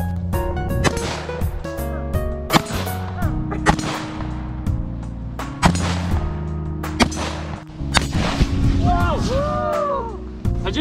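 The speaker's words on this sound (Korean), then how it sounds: "사격 개시." Live-fire shooting at a range in the United States with real firearms: sharp, loud reports ring out in irregular bursts, some close together, amid range chatter and people talking.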